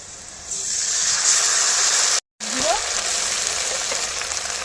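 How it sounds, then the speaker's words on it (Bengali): Cumin, ginger and dried chilli paste is added to onions frying in hot oil, giving a loud, close, steady sizzle that briefly cuts out before resuming. "আমি জিরে বাটা, আদা বাটা আর শুকনো লঙ্কা বাটা পেঁয়াজ তেলে দিয়ে দেব"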